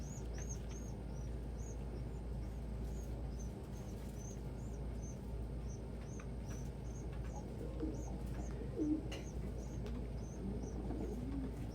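Pigeons cooing repeatedly in a steady series of soft calls, close by, over a low constant background hum, with no talking.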